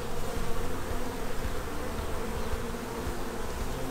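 Dense, continuous buzzing of many honeybees packed close together in a hive with a laying worker, a steady droning hum with no talking.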